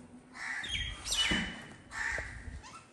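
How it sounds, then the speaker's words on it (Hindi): Crows gathering outdoors where food such as rice and bread is put out for them, giving a few bursts of cawing and squawking calls over steady background noise. "चेक करें कितने ज़्यादा कौवे जाने दे इकट्ठे हो गए"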